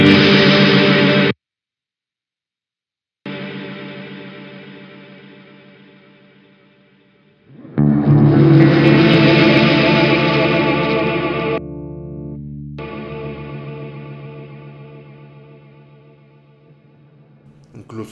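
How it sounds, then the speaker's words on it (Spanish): Guitar played through an EarthQuaker Devices Transmisser reverb pedal, loud washy chords that keep ringing in long, slowly fading reverb trails after the playing stops, with a brief silent gap and a swelling, modulated burst in the middle. "cuando apagas el pedal, él todavía está haciendo su reverberancia dentro"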